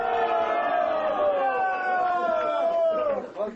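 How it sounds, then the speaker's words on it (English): Ship's crew on the icebreaker Rossiya cheering on reaching the North Pole: a sustained chorus of voices shouting together, loud and close, fading at the end. "A long-awaited moment, met with common cheering and a modest celebration."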